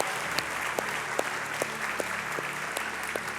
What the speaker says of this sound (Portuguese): Dê uma salva de palmas a Jesus o mais alto que você puder.